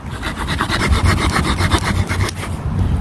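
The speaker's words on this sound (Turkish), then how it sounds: "Şimdi İzel Taş'ın multi tool'unu aldım. Şuraya koyuyorum. Başlıyorum." A small multi-tool saw rasps back and forth through a wooden branch in quick, regular strokes, close up and with no talking.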